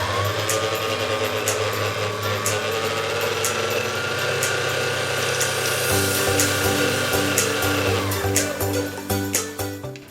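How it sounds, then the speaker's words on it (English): Electric hand whisk whirring through keto burnt Basque cheesecake batter, a loud, steady motor whine that shifts pitch partway through, with a few knocks and taps near the end and no talking. "Bring it down again, then give it another whisk."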